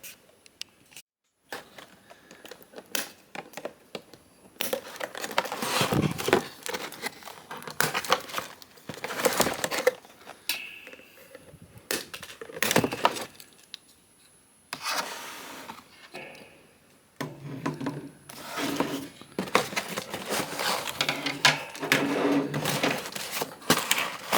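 Transformers Age of the Primes Aerialbot combiner toy parts being cut and pulled loose from their packaging, with repeated close rubbing, scraping and crinkling bursts of plastic and cardboard in irregular spurts throughout.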